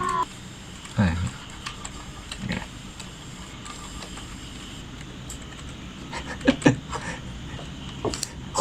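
A computer keyboard is typed on during a session of the Roblox horror game Eyes. Scattered soft key clicks and a few louder taps come in irregular bursts over a quiet indoor background.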